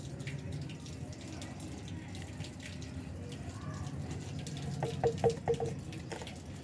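Water runs from a tap into a container, about one litre being filled to mix a plant spray against ants and mealybugs, a steady faint trickle with a few brighter splashes near the end.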